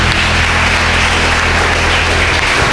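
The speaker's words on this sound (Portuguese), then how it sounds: "aplaude bem forte a Deus por isso," A church congregation applauds loudly and continuously, a dense, close wash of clapping with no pauses.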